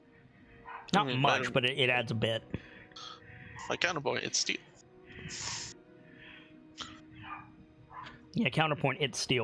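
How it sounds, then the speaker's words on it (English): A dog barks and snorts in short bursts somewhere in the room, fairly close, while people keep talking over it through most of the stretch. "Sorry about the dog, by the way."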